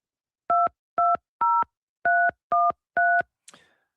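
Six evenly paced telephone keypad DTMF tones enter a PIN on a conference call-in line, loud and clean, followed by a brief faint chirp.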